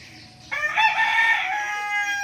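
Red roosters crow close and loud, one long, strained cock-a-doodle-doo rising suddenly out of quiet background and trailing off, heard alone without talk.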